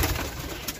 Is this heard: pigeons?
yes